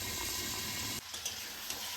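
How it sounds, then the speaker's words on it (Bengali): Chicken pieces for a curry with potatoes sizzle steadily in a pan over medium heat, a close, constant hiss that is broken briefly by a couple of soft stirring scrapes, with no talking. "মিডিয়াম আঁচে ভালো করে মাংসটা কষিয়ে নেব।"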